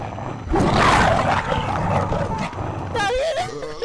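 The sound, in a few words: growling dog creature in the video game Inside The Backrooms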